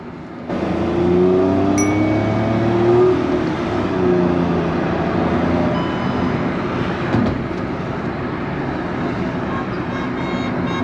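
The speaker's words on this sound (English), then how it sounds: "I'll just shut up and make you listen to the sound of this beautiful, beautiful car." Hyundai i20 N-Line hatchback engine and exhaust heard from inside the car, a steady low drone with rising and falling revs as it drives through traffic, continuous and fairly loud throughout.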